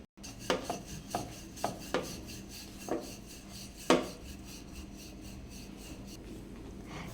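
Nachani (ragi) gluten-free pizza dough being rolled flat with a rolling pin, a soft rubbing roll punctuated by several light knocks and taps, close and fairly quiet.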